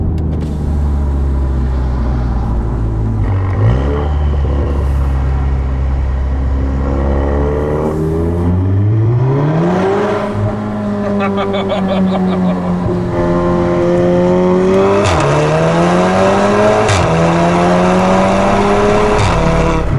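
A loud tuned Volkswagen Golf R engine with an APR Stage 2 setup revs and accelerates through rising gears, pitch climbing and dropping at each shift, close and continuous.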